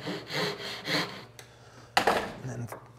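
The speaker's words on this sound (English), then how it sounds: "just let the saw touch that knife line" A hand saw cuts across wood along a scribed knife line for a small drawer, a few rhythmic rasping strokes up close, then some sharper knocks and scrapes as the cut finishes.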